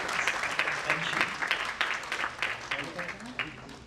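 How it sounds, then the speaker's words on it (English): A conference audience applauds, a crisp crowd of claps with distinct sharp hits rising and falling in waves for a few seconds, fairly close, with some talk mixed in. "big round of applause"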